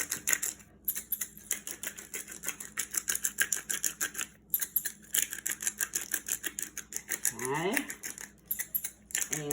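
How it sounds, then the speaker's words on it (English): Cracked pepper ground from a mill over cabbage steaks seasoned with garlic powder, a steady run of close, dry crunching clicks carried through most of the stretch, with a brief spoken word near the start. "And then I like to do the cracked pepper on each one."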